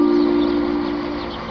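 A train pulls into a station platform and comes to a stop, with a steady tonal hum and wheel and brake noise fading gradually, close by and fairly loud, with no talk.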